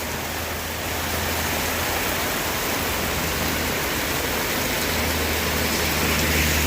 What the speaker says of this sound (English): so even with it raining